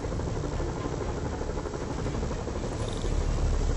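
A helicopter's rotor in the video game Marvel's Spider-Man drones steadily throughout, a loud broadband whir with a low thumping pulse that swells slightly near the end.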